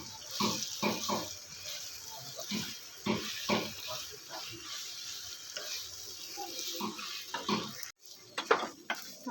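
Chicken being stirred into cooked spice paste in a pan, giving repeated wet scraping and squelching strokes in an uneven rhythm, with a faint sizzle underneath.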